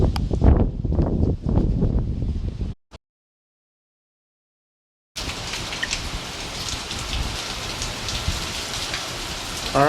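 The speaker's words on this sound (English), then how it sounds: "you can see here that the rains have started for a bit" Rain pouring during Hurricane Irene, a steady broadband hiss near the microphone, broken by a few seconds of total silence midway before resuming with equal intensity.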